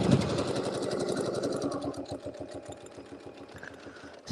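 A sewing machine stitches along a seam of a winter fan blade quilt block, running steadily with rapid needle pulses, near and fairly loud, then slowing and pausing toward the end.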